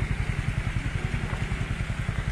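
A motorbike engine thumps in a quick, even rhythm as bikes squeeze along a narrow road below the Denchung cliff near Namchi, the pulsing putter fairly faint and steady.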